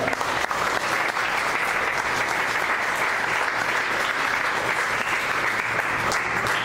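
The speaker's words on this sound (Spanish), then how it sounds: "Denle una ofrenda de palmas a él." A church congregation breaks into sustained applause during a service, thick continuous clapping that stays loud and even throughout, with faint crowd voices underneath.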